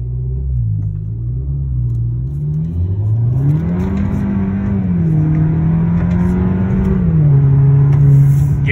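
A Kia K5 GT-Line with a 1.6 engine and a high-flow cat revs loudly up close, its deep exhaust rumble climbing and falling in pitch through several throttle swells.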